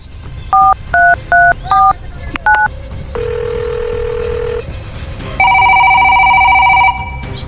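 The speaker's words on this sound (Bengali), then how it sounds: "আগে তার ইন্সপেক্টর সুবদুলের কাছে আগে ফোন দি।" Telephone keypad tones: four quick dual-tone beeps, a short pair, then a longer steady tone and a sustained ringing-style tone, loud and close with no talk.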